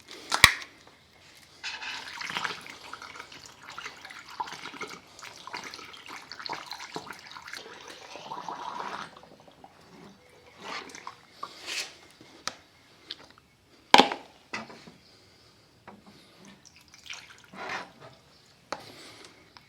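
Distilled water poured into the cooling system of a Honda GL1500 Goldwing motorcycle comes through as irregular splashing and trickling in short bursts. Sharp clicks and taps occur between the pours, and no one speaks.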